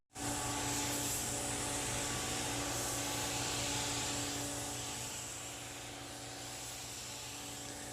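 An Iwata paint spray gun laying base coat on a car hood, a loud steady airy hiss that kicks in abruptly and eases slightly toward the end; no talk.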